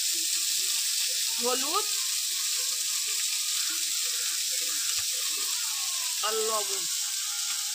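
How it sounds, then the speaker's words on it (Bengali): Prawns fry in oil with turmeric and salt, giving a constant bright hiss and crackle throughout, while a voice speaks briefly over it twice. "এবার চিংড়ি মাছগুলো ভেজে নেব।"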